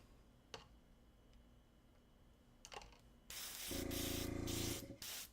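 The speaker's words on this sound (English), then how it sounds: "Sometimes your airbrush just doesn't like you." An airbrush spraying paint gives a steady hiss that starts partway through and holds loud to the end, preceded by a few soft ticks and clicks in a quiet room.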